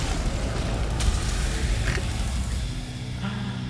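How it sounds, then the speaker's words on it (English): Deep boom of an explosion in a video game, a sustained low rumble with a couple of brief bursts on top, loud and continuous throughout. "I'm jumping into the explosion!"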